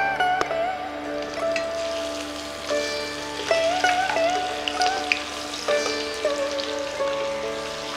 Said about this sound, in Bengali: যতক্ষণ মাছ ভাজা হচ্ছে